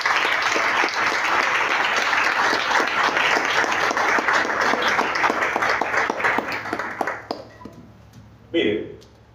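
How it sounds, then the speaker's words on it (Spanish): A church congregation bursts into loud, sustained applause during a sermon, steady clapping that thins out toward the end, with a voice briefly rising over it. "Dale un aplauso al Señor."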